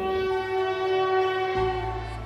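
A train horn sounds in a long, steady tone over the rumble of a moving train, setting the scene of a railway journey toward Prayagraj in a spoken ghost story; no voices are heard.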